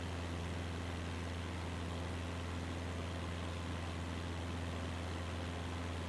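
Engine of a plane flying low over Swiss northern lakes in a flight simulator bush trip, a constant, even droning hum with a steady low tone that never changes throughout, without speech.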